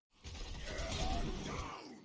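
Reinhardt's Earthshatter in Overwatch on the Havana map: a broad crunching, grinding impact that rises fast and sustains for about two seconds, rumbling low with a gritty, shattering texture, alone and fairly loud.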